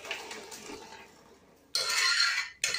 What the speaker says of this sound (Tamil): நான் இந்த பாத்திரத்தில் தான் வந்து சாம்பார் விட போகிறேன்